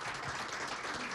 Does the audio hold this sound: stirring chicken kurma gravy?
no